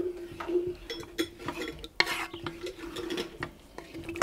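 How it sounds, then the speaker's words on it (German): Stirring tomatoes into a fish goulash with fish stock in a cast-iron Dutch oven, with a steady run of utensil scrapes and clinks against the pot and one sharper knock near the middle. "Rühren wir das unter."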